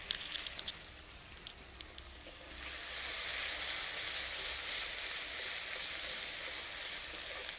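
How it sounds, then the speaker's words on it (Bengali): Ginger and garlic paste hits hot oil with fried onion in a pan for a jackfruit and prawn curry, starting with a few scattered crackles before the sizzle swells into a steady, close hiss that holds to the end with no talk. "এবার পেঁয়াজটা ভাজা হয়ে গেছে, এর মধ্যে দিয়ে দেবো আদা বাটা রসুন বাটা"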